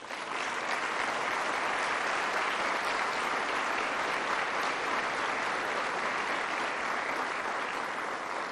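Sustained applause from an audience at a national citizens-and-police forum honoring police officers, a broad, even roar of many hands clapping that holds steady throughout without speech.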